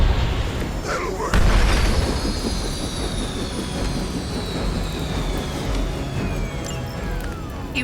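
A helicopter goes down in the Midnight Suns video game: a loud whining engine tone slides downward over dense rumbling combat noise, with a heavy boom just after the first second.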